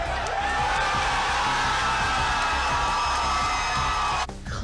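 A large crowd claps, screams and shouts in a continuous loud roar with whoops rising above it, then cuts off abruptly just before the end.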